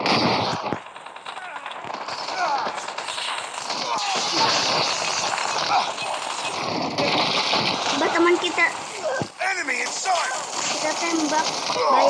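Rapid gunfire from the mobile shooter Call of Duty Mobile fills the whole stretch in dense, continuous bursts at steady loudness, with a few brief gaps and a player talking over it.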